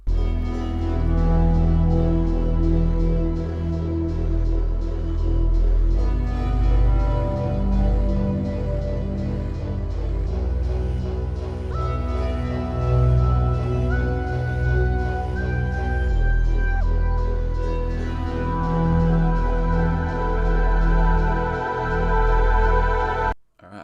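A trap beat drenched in Valhalla Supermassive reverb and automated effects, with dense sustained synth layers over heavy sub bass, playing loud and continuous without vocals before cutting off abruptly at the end.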